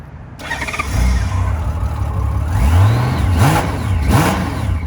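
A 2000 Honda Goldwing GL1500 SE with a Champion trike kit cranks over and catches, then revs up and down a few times in rising and falling swells before settling, close and loud with no talking.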